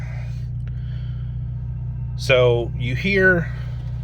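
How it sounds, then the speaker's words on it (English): A 2016-2022 Chevrolet Colorado 2.5L four-cylinder truck fitted with an MBRP exhaust idles with a steady low rumbling drone throughout, and a voice speaks briefly over it partway through. "This truck does also have an MBRP exhaust on it, so you can hear that a little bit at idle."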